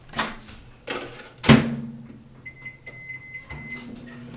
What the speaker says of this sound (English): So I'm just going to go ahead and pop this in the microwave for about 20-25 seconds.